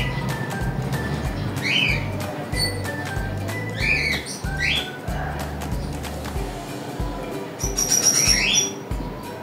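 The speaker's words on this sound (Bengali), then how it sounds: "আমি আমার এই ফিমেল ককাটেলকে সেই ব্রিডিং কেজে ছেড়ে দিলাম" Cockatiels in a breeding cage, a female newly placed with a male, give repeated sharp chirps and squawks in bursts over a low steady background hum.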